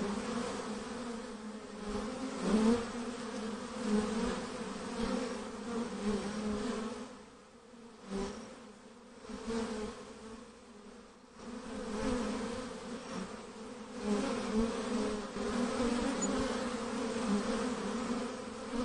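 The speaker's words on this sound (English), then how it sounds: "It's a honeybee." A honeybee buzzes steadily for about nineteen seconds. The drone is loud and continuous and dips briefly in the middle before swelling again, with no voices over it.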